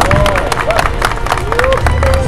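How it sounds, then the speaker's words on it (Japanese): An audience claps together at the Chevrolet Fan Day 2024 Concours d'Elegance award ceremony. The applause is steady and fills the room, with crowd chatter and some voices mixed in. "大きな拍手をお受けください。"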